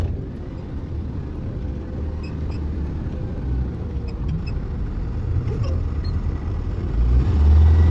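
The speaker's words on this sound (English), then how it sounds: "I'm driving right now." A car being driven, heard from inside as a steady low road and engine drone that swells slightly louder near the end, with no talking.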